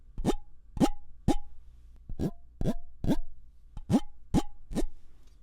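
Ten sharp, hollow taps on the metal mesh grilles of two microphones, evenly spaced, each with a short ringing resonance, close and fairly quiet in an otherwise silent room.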